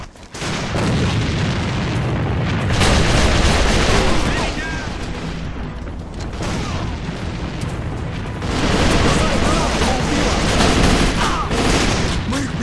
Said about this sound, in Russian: Бросаю гранату! Бросаю гранату! Мы их прикончили!